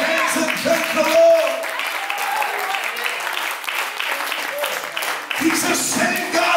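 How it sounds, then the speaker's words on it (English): A church congregation claps hands at an anniversary service in London, steady continuous clapping filling the room with voices and singing mixed in underneath. "Clap your hands and thank the Lord."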